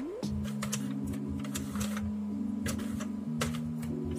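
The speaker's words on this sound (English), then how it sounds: "we're going to crank one more time just to secure all the threads, the last row" A Sentro 48-pin knitting machine cranked through its final row to secure the threads while finishing an adult beanie, giving a steady mechanical whirring with clicking ticks, continuous and close, with no talk.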